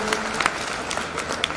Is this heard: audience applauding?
yes